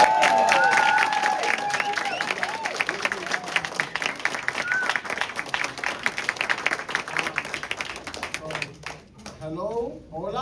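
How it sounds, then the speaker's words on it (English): A crowd at a Brooklyn political gathering claps and cheers for a congressional candidate, a full burst of applause with voices mixed in, thinning near the end as someone begins speaking. "I want you to put your hands together, and I want us to clap for our next Congressman"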